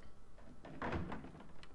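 A door is shut inside the Resident Evil 7 horror game, a soft muffled thunk in the middle of quiet room tone, faint and brief.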